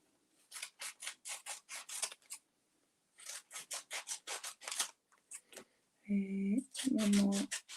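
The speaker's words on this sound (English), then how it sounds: "And the biggest scissors I could find." Scissors snip through paper in quick runs of crisp, rhythmic cuts, two bursts separated by a pause, followed by a louder rustle and brief humming tones.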